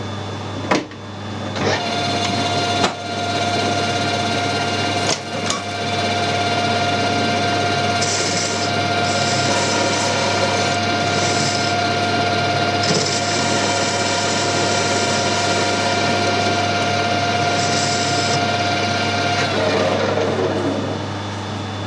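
A metal lathe squaring the end of a workpiece in a home workshop runs as a loud, steady machine drone with a constant hum, a few sharp clicks near the start and intermittent higher cutting whine through the middle.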